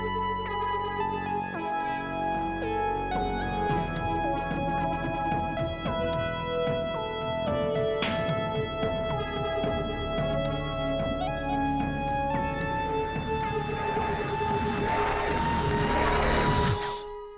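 Electric lead guitar carries the melody of a song from High School Musical 3 over a full, busy backing arrangement. It plays continuously and loudly and builds in intensity before stopping abruptly at the end.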